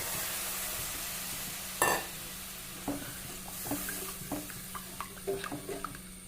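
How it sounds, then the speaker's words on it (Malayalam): Tamarind water hits a hot frying pan with a sudden sharp sizzle, followed by a soft, ongoing bubbling hiss and scattered clinks of a spoon stirring close by. "ഈ പുളിവെള്ളം കൂടി ഇതിലേക്ക് ഒഴിച്ച് വെക്കുക"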